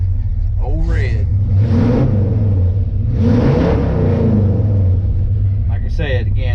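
A retired 1971 Dodge W200 Power Wagon volunteer fire department brush truck runs with a deep, steady engine rumble that swells slightly in places, loud and close, with brief voices over it.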